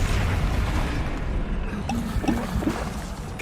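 Descendo spell in a Hogwarts video game lands as a loud, dense rumble with several heavy thumping slams scattered through it.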